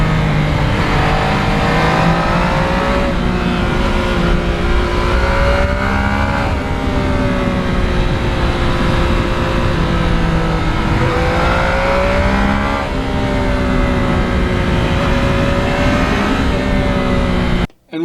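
A 2020 Yamaha MT-09 motorcycle engine is heard from on board while riding, a loud continuous drone that rises and falls in pitch as the throttle changes, with steady wind rush underneath.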